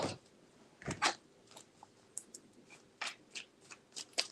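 Tarot cards are shuffled by hand in a few quick, crisp riffles and soft slides, close and quiet, separated by short pauses.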